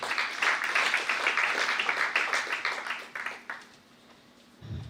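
Audience applause during a talk on entrepreneurs in India, a steady round of clapping lasting about three seconds before fading out into quiet.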